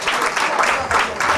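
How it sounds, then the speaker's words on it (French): At a sports dinner, an audience claps heartily for a jujutsu champion, a brief burst of dense, even applause from a room full of people. "On applaudit très fort pour le champion des choux"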